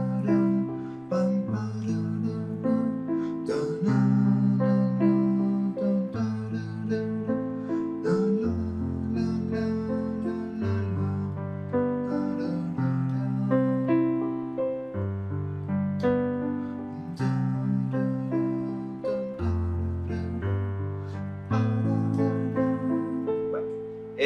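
Piano playing a short piece in a lilting 6/8 rhythm, steady chords and melody at even volume with no talking.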